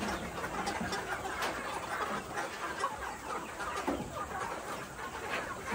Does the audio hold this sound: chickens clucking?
yes